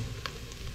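Onion sizzles in a hot pan with garlic and ginger, a steady soft frying hiss with faint crackles over a low background rumble, heard alone.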